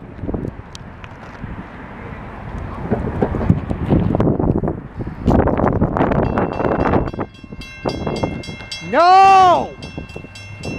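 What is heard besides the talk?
Norfolk Southern grain train passing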